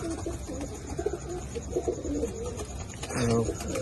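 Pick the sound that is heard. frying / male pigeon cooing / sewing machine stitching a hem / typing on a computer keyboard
male pigeon cooing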